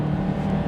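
Alfa Romeo Alfa Sprint QV engine of 105 horsepower, tuned by a former Alfa mechanic, revving in a brief, loud, steady droning burst heard up close.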